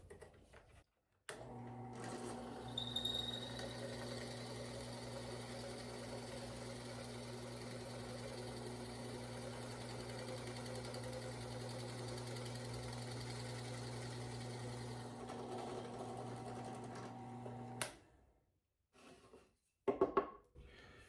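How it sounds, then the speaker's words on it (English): A drill fitted with a 3/8 inch plug bit cuts wooden plugs, a steady humming motor drone with a grinding edge that runs unbroken for about sixteen seconds, then stops, followed by a few brief clicks. "Basically, it just drills a hollow hole here, and then you can pop the middle out and make your own plugs."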